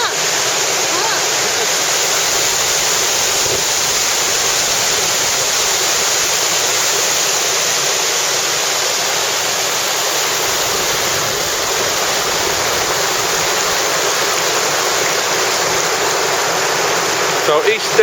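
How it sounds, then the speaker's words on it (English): A waterfall near Helm Crag roaring as a loud, constant broadband rush of falling water, close and steady throughout with no talking. "And here we are at the waterfall. It's quite noisy, but very impressive."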